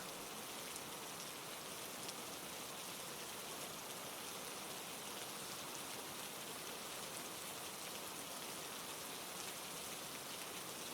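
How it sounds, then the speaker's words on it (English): Steady rain falls without pause, a dense, even hiss of drops on surfaces that holds at a constant moderate level throughout, with no voices. "The rain's still here, steady and calm."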